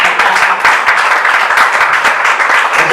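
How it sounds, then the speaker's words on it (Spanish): A church congregation applauds during a Spanish-language service, a loud, close wash of many hands clapping steadily for a few seconds. "Dale un aplauso al Señor."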